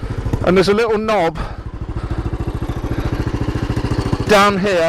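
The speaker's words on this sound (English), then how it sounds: "that's your Enfield started" A Royal Enfield Bullet 500 Classic motorcycle idles with a steady, even thumping beat that is close and clear, with someone talking at the start and again at the end.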